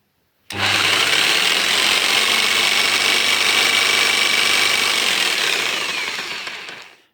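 A Texas TA-01-580 electric jigsaw starts abruptly and runs with a loud, steady buzzing motor whine for about six seconds. The whine then winds down, and no one speaks.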